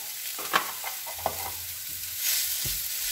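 Onions and lean minced beef frying together in a pan, a low sizzle with a few distinct clattering knocks as the meat is dropped and moved, close and fairly quiet.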